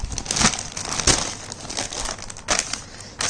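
A plastic vacuum packing bag crinkles and crackles as it is handled up close, bursts of rustling rising and falling in uneven handfuls with no voices.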